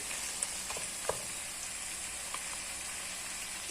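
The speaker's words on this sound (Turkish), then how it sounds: "Su salçamızın kokusu çıkana kadar iyice bir kavurduk arkadaşlar" Tomato paste sizzles in a pan while being sautéed for a creamy meat sauté, a soft steady hiss with a few faint pops and stirring scrapes, no talking.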